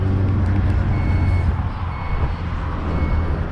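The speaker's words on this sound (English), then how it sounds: "hit this button here to close the hatch or do it just from the key fob" A 2022 Chrysler Voyager with a Freedom Motors rear-entry mobility conversion closes its power hatch: faint repeating warning beeps over a low, steady motor hum, with no talk.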